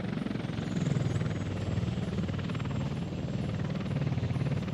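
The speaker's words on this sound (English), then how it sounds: "Let's go on a helicopter flight." A helicopter flies in the Soviet-era city-building game Workers & Resources: Soviet Republic, its rotor giving a steady, even throb with a rhythmic low thumping that carries on without a break.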